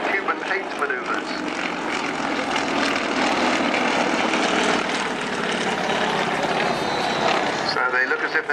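Aerobatic propeller aircraft flying synchronized half Cuban 8 maneuvers at an airshow at Cosford, a loud continuous engine drone holding steady throughout, with a commentator talking over it.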